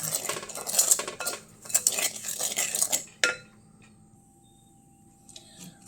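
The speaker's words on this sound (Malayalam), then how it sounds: "റവയൊന്ന് നന്നായിട്ടൊന്ന് വറുത്തെടുക്കുക" Metal utensils clatter and scrape against a pan while roasting semolina, in quick, busy bursts for about three seconds, then stop, leaving near silence with a faint clink.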